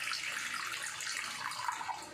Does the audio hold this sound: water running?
yes